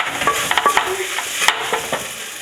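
Samosa pastry sheets cook in a pan with a soft sizzle, broken by light clicks and scrapes as the sheets are moved and turned.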